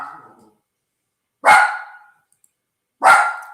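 Dogs barking, three sharp separate barks spaced about a second and a half apart, close and loud against silence.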